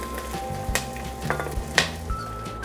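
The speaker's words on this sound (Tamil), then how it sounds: "ஸ்கொயர் ஷேப்பில் கட் பண்ணி வச்சுருக்க ஆனியனை ஆட் பண்ணிக்கலாம். இப்போ இதை நல்லா வதக்கி விட்டுருங்க." Square-cut onions sautéing in a kadai for mushroom masala, a steady sizzle broken by several sharp clinks and scrapes of a spoon stirring against the pan.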